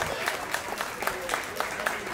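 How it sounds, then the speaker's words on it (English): A crowd at an evening reception claps together in a round of applause, a dense wash of hand claps with sharper individual claps popping through and faint voices underneath. "Big round of applause"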